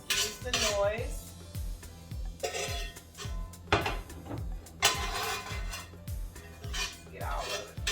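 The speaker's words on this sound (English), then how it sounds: "everybody knows how to drain the grease off the hamburger." A metal pot and strainer clank and scrape while grease is drained off cooked hamburger meat. Repeated close, ringing metallic knocks and rattles come in irregular bursts.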